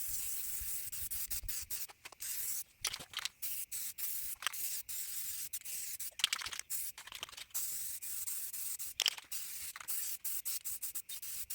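Rust-Oleum 2x Ultra Cover paint-and-primer sprayed from an aerosol can onto a display board frame, a hissing spray broken into many short and longer bursts with brief gaps, close up and steady, with no talking.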